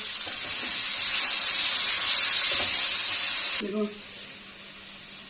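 Chopped tomatoes hit hot oil with already-fried onion and garlic for a stuffed bitter gourd dish, producing a loud, dense hissing sizzle that stops abruptly partway through, followed by quieter kitchen sounds and a voice.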